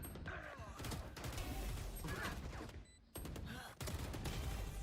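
Gunshots in Valorant during a competitive VCT Masters Shanghai match, with quick bursts of crisp shots and mechanical clatter mid-level in volume and broken by short pauses.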